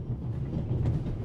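A low, steady rumble of a moving train in the adventure game The Raven Remastered, a continuous soft drone heard alone without any speech.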